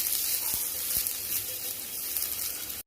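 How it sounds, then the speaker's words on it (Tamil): Half a large onion and two garlic cloves frying in oil in a pan, with a steady close sizzle and a couple of faint stirring taps before it cuts off. "ஒரு அரை பெரிய வெங்காயம், அப்புறம் ஒரு 2 பல்லு பூண்டு, இதெல்லாம் சேர்த்து நம்ம நல்லா ஃப்ரை பண்ணிக்க போகிறோம்."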